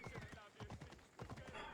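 Horse hooves clip-clopping in the Assassin's Creed Odyssey video game, a quick irregular rhythm of soft thuds under steady talking, faint overall.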